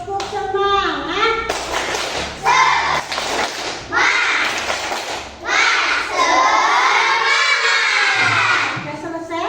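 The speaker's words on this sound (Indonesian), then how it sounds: "Kita tepuk semangat untuk kita semua." A class of children does a rhythmic spirit-clapping routine, shouting and cheering in bursts between loud patterned claps, with excited young voices throughout.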